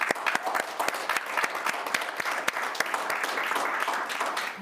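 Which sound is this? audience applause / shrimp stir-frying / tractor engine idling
audience applause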